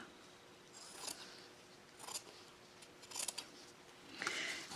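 Scissors cutting out a paper envelope shape, a handful of faint, close snipping strokes spaced about a second apart in a quiet room.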